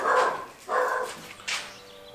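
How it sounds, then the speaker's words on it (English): A little puppy barks in three short, loud yaps spaced about half a second to a second apart, close by and alone with no talking. "The little puppy started barking"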